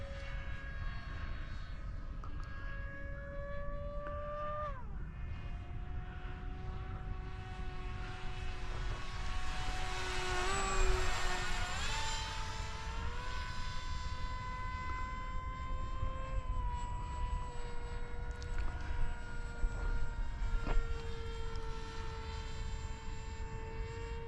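An FF-35V2 RC plane with a 6-inch propeller flying at full throttle, a steady high-pitched motor whine that shifts in pitch as it passes, swelling louder midway then easing, with no talking.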